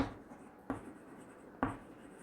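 Chalk or marker strokes on a board during a physics lesson, three distinct scratchy writing bursts spaced about a second apart, close and fairly quiet with no talk.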